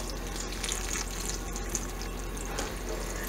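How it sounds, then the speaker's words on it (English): Water pours steadily into a pot being prepared for canning mushroom stock, giving a close, continuous rushing splash with no pauses. "So here's last of our water. I'm gonna fill it to the tippy top."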